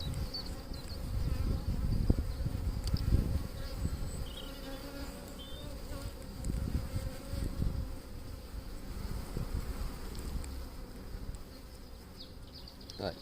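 Honey bees buzz in a dense, continuous drone during a hive inspection, the swarm sound rising and falling with close passes near the listener, while frames are handled with occasional knocks and rustles.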